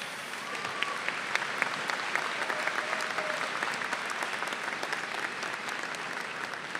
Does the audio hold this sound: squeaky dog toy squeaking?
no